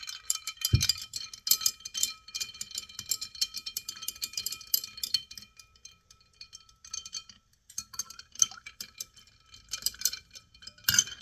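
Three ice cubes are stirred in a glass of water, giving light, irregular clinks and ticks against the glass that carry on close by with no voices.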